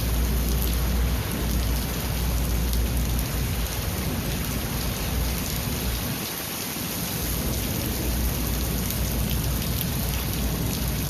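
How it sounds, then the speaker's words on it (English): Heavy monsoon rain pours steadily in a loud, dense wash, with strong wind and rumbling thunder mixed through the storm, and no voices. "That is a great example, not just of the rain, but the wind that was coming down."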